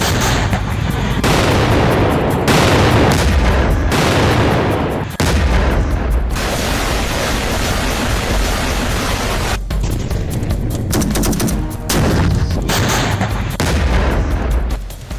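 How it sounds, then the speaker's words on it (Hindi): Israeli strikes on Gaza, a dense, loud barrage of blasts and gunfire with sharp cracks and heavy booms, continuous and harsh throughout, with no clear speech. "इजराइल के बारूदी प्रहार से गाजा फिर कांप उठा।"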